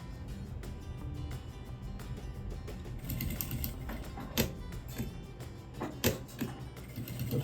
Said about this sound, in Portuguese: eu vou costurar do meio para fora, tá? É uma costurinha de segurança